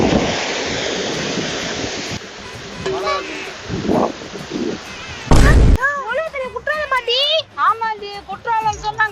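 An artificial waterfall at Kundrathur near Chennai, built to resemble Courtallam falls, gives a steady broadband rush of pouring water for the first couple of seconds, then loud nearby talking and a sharp thump largely cover it.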